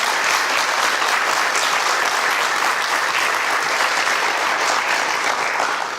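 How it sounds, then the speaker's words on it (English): A crowd at a county Republican Party gubernatorial forum gives loud, sustained applause for the color guard and band, with dense steady clapping filling the room. "Let's give another round of applause for the color guard and the band."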